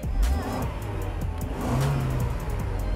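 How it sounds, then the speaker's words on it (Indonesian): A car engine revs up steadily, a loud close rumble that rises in pitch while the motor is blipped. "Coba geber sedikit kali ya."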